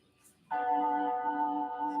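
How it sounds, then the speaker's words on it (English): A bell rings out from about half a second in and keeps sustaining, steady and fairly loud, with no voices over it. "Like a bell."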